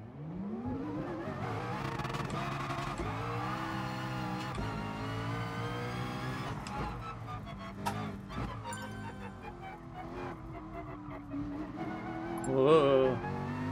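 A powerful race car in Gran Turismo Sport revs and accelerates through the gears with a sustained engine whine, rising and falling in pitch, and a brief louder burst near the end.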